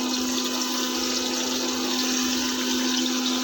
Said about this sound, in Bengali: এবার আমি তেলে জল দিয়ে দেবো।